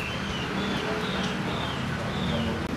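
Poksai Hongkong laughingthrushes sing in a crowded bird shop, faint repeated whistled phrases rising over a steady busy background hum.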